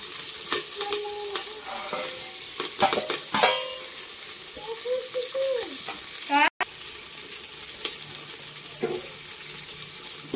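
Chopped onion sizzles in hot oil with cumin and mustard seeds while being stirred, a steady frying hiss with scraping stirs and clinks up close, plus a brief running-water sound.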